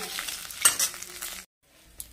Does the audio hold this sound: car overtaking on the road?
no